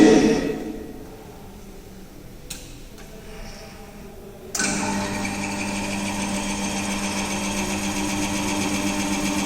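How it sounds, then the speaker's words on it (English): A pin-on-disc wear test machine testing a brass specimen starts up after a quiet pause, then holds a steady close mechanical hum and whir with a constant tonal drone. "Now I am going to start the machine."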